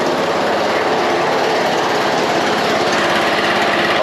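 A John Deere Z225 riding mower engine runs steadily and loudly up close, a dense continuous roar with a fast low pulsing throb, burning off fuel-diluted oil through the exhaust.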